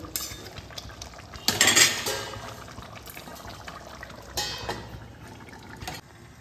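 A spoon scrapes and clinks against a pot while fried potatoes are mixed into chicken for a Bengali poppy-seed chicken dish, in two short bursts of metallic stirring over a quiet background.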